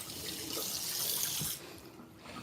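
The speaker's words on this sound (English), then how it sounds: "I'll rinse out those bowl." A bowl is rinsed under a running kitchen tap, a close, steady hiss and splash of water that cuts off partway through and leaves a faint trickle.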